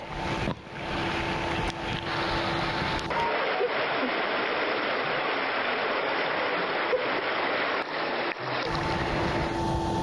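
Floodwater from the overflowing Lamong River in Gresik rushing in a loud, continuous roar, a dense steady torrent with no break and no voices.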